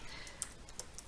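Quiet typing on a computer keyboard with a low battery, a handful of soft, irregular key taps close by over a faint background hiss.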